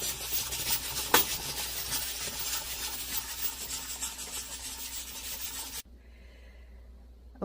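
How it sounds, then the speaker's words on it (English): Cast iron pan being greased by hand, a steady close scraping and rubbing that runs several seconds and then breaks off into near quiet. "Here I am greasing my cast iron"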